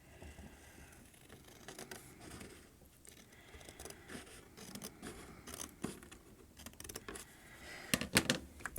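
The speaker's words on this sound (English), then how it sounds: "this one I'm just going to trim with scissors on the inside here" Scissors snip repeatedly at close range, trimming 12x12 paper for a mini album, a run of small crisp cuts with a rustle of paper and a louder cluster of snips at the end.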